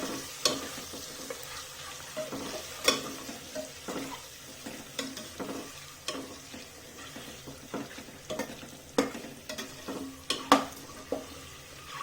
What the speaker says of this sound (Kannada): ಇವಾಗ ಎಗ್ನ ಚೆನ್ನಾಗಿ ಫ್ರೈ ಮಾಡ್ಕೊಳ್ಳಿ.